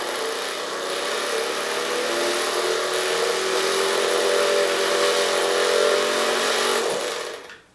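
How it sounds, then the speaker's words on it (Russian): The bobbin winder of a Keller-51 sewing machine runs as a steady, close mechanical whir for about seven seconds, then winds down and stops. "О, моталочка работает."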